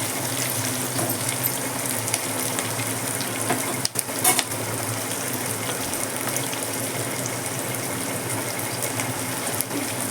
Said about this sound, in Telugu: పచ్చిమిర్చి బాగా వేగాలి.